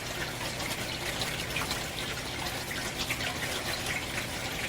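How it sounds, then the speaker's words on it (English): Water trickling out of the top of a siphon pipe in an aquaponics greenhouse setup, a steady soft hiss of flowing water with no speech. "here we can see just a little trickle coming out as the water in the top of the pipe starts to go over and start draining"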